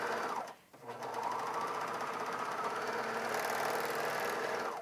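A Bernina 700D serger stitching curves in fabric, its motor running in a fast, steady whirring rattle close up, briefly slowing with a short pause near the start before resuming at a constant even speed.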